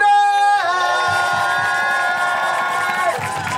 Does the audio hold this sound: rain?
no